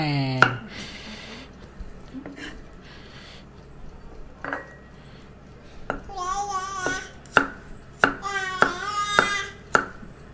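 Garlic sliced thinly with a knife while preparing roast fish with pickled tomatoes: a few scattered knife strikes and a voice early on, then a cluster of sharp close chops near the end.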